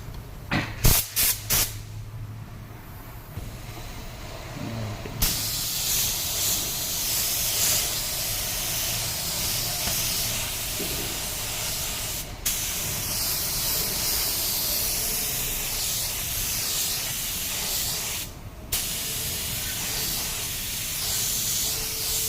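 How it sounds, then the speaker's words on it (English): A spray gun paints a car in a Dubai shop in Al Quoz, producing a long steady hiss that starts after a few short bursts and holds at an even level with brief interruptions. "Now we will do paint."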